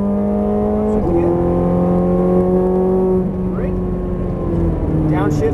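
A Ferrari F430 Scuderia engine pulls hard at full throttle, its harmonics dropping sharply at about one second and again near three seconds as it shifts up, steady and loud behind someone talking.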